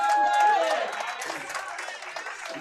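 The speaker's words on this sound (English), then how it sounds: "Give me a round of applause for Bobby." Applause and crowd noise in a hall at a powerlifting meet, with a whistle-like tone at the start, followed by lighter, scattered clapping and voices that fade slightly over a few seconds.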